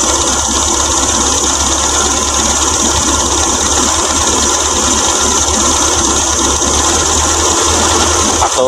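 A car engine idles steadily and loudly for several seconds during a radiator flush, with a constant mechanical hum and light vibration throughout and no talk.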